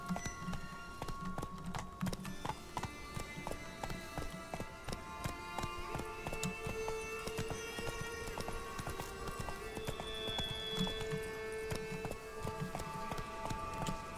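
Horse hooves clip-clop steadily on the ground in The Witcher 3: Blood and Wine, a continuous rhythmic trot under game music and ambience, near and moderately loud throughout.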